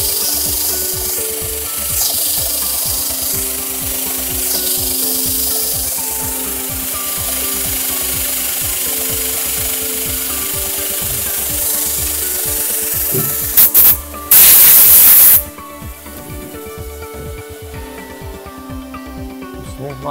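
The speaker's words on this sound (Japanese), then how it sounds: "なるべく残しながら、削っていきます" A golf wedge head, the Fourteen DJ-6, is filed and shaped by hand, giving repeated rhythmic rasping strokes of metal under a file, close and fairly loud, with a brief burst of harsher grinding noise near the end.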